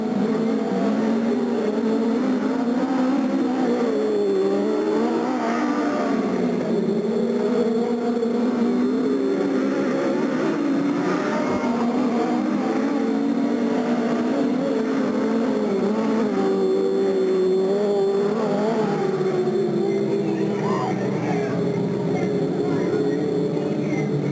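Race cars at Delta Speedway, 1996, roar around the oval on the final lap, a steady close engine drone that swells and fades as cars pass, with a public-address announcer talking over it throughout.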